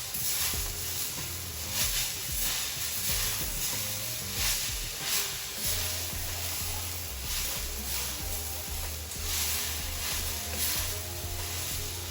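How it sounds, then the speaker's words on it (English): Grated carrots for carrot halwa are slow-cooked and stirred in a pan, giving a continuous soft sizzle with scraping stir sounds and a high steady hiss in the background. "Stirring it for at least 10 to 15 minutes"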